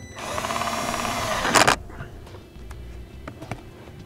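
A power drill drives the provided screws to mount a Tekonsha Prodigy P2 trailer brake controller, giving one loud, close whirring run of over a second that stops sharply, followed by quiet clicks and small handling taps.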